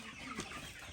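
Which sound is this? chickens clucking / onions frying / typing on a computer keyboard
chickens clucking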